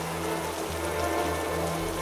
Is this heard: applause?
no